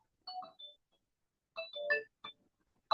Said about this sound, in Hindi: अनीता ये फोन ले तो उनको बोलना मैम बाद में करेंगे।